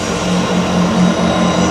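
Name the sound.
loud passing train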